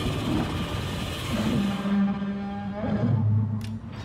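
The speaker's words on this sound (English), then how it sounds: "Why in the fuck did I hear Godzilla roaring?" A Godzilla roar in the naval battle game World of Warships: a loud, long, low bellowing growl that starts after about a second and a half and swells and shifts pitch over several seconds over steady game background noise.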